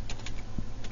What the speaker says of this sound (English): maybe type in something like